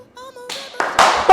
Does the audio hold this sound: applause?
yes